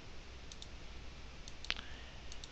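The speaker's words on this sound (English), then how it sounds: "Here's all the people that we followed, and we just start clicking Unfollow." Mouse clicks on a computer while unfollowing accounts on Twitter, a few faint, sparse clicks over a quiet room hiss.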